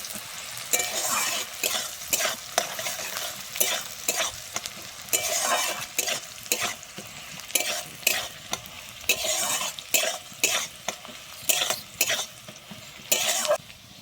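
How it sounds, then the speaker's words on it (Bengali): Onions sizzle steadily in a pan while a spatula stirs them in repeated scraping strokes until reddened, close and fairly loud. "আমি পেঁয়াজটা কিন্তু লাল করে ভেজে নেবো"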